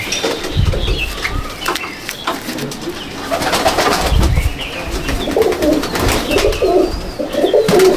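Pigeons coo repeatedly in a loft in Icchapur, North 24 Parganas, with low throaty calls close by, a few faint chirps and a brief flutter of wings; there is no talk.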